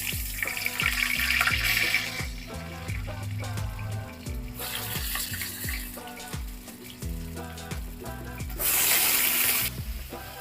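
Pointed gourd pieces go into hot oil in a frying pan, making a loud, busy sizzle with clattering as they are stirred and spread, the hiss surging near the end.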